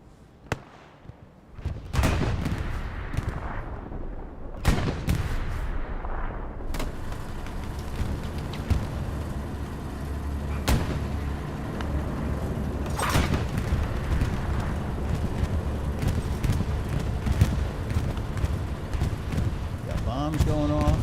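Bombs burst one after another during a bombing run over Omaha Beach in a World War II game, with deep booms and sharp cracks over a dense rumbling battle and someone talking throughout.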